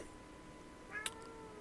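A house cat gives a single short meow, close and clear, over a quiet room background.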